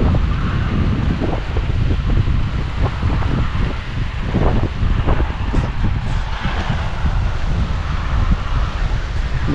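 Strong wind roars steadily across the microphone outdoors under a hot, blazing sun, with a constant loud rushing that buffets without pause throughout.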